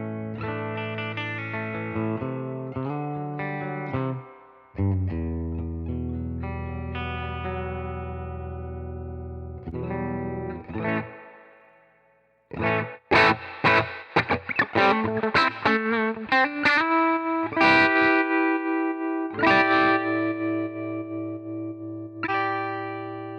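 An electric guitar played through a UAFX Dream amp pedal preset for a vintage tone rings out in sustained chords and single notes, then turns into quicker picked phrases, loud and close with a light reverb tail.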